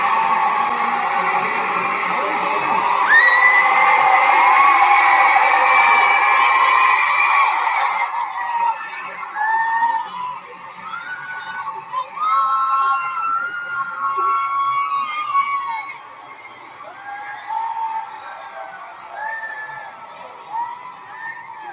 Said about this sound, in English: this movie captures the crowds and the excitement at the London Science Museum on